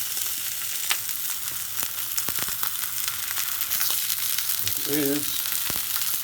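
Aged sirloin steak fries in a hot pan, giving a loud, steady sizzle with crackles and pops throughout, plus a brief soft voice near the end.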